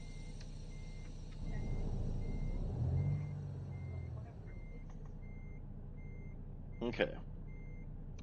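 A truck backs a trailer into place in American Truck Simulator, its reversing alarm beeping steadily over a low engine rumble that swells midway, with a short air-brake hiss near the end and a brief spoken word.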